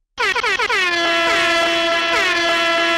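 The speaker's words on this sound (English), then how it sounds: "they're randomly struck by a bunch of air horns." A loud blast of air horns starts abruptly with a few quick stuttering honks, then holds as one continuous blaring tone.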